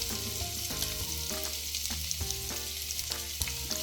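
Sliced onions and green chillies frying in oil, a continuous crackling sizzle with occasional stirring scrapes, close and fairly soft, no voices.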